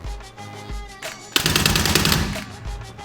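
Bursts of automatic machine-gun fire during a firearms training exercise, starting with short separated bursts and then breaking into a loud, dense sustained volley of rapid shots up close.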